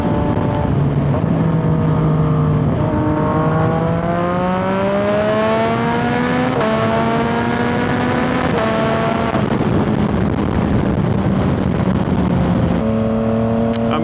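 A Yamaha MT-09 motorcycle on fresh tires accelerates through several gears, its engine note climbing steadily and dropping briefly at each shift, close and loud with wind noise throughout.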